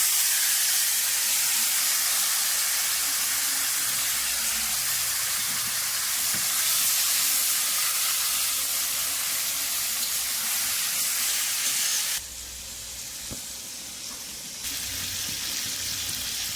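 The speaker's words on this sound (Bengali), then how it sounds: "কালো জিরাটা পুড়ে আসলে আমি দিয়ে দিচ্ছি এখানে মাছটা, যে মাছটা আমি মাখিয়ে ম্যারিনেট করে রেখেছিলাম, মাছটা আমি আস্তে করে ছেড়ে দিচ্ছি" Marinated fish frying in hot oil with nigella seeds, a steady broadband sizzle and hiss throughout, dipping briefly quieter near the end, with no talking.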